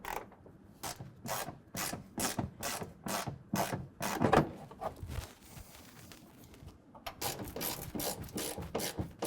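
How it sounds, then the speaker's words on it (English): A 10mm socket ratchet tightens the wheel well guard bolts on a 2015-2020 Ford F-150. Rapid rhythmic clicking comes in bursts, broken by a short pause midway, close up and without speech. "take our 10mm socket and tighten everything down"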